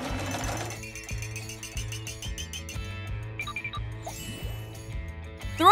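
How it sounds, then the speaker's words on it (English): A sewing machine stitching a shiny turtleneck for a doll, its needle thumping in a fast steady rhythm close by, with light clinking and a brief rustle near the end. "Let's sew a shiny turtleneck."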